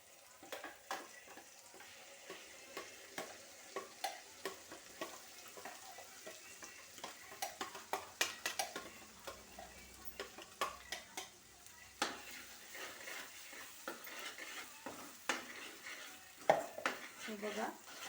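Ground masala fries in oil in a pan for a fenugreek-and-paneer dish, a faint steady sizzle with quick scraping stir strokes and light clinks of a spoon against the metal, close and fairly quiet.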